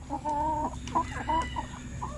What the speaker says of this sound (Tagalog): Yan konti lang yung ating mga manok dito.